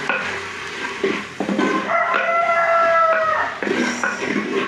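Salted beef curry is stirred in a clay pot in the Kerala traditional style, with soft scraping and clinks and a faint sizzle, while a rooster crows in the background midway.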